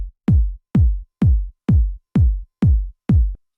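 A favourite Ableton house kick sample thumps on every beat, seven steady four-on-the-floor hits with tight attack and boomy low decay, clean and isolated.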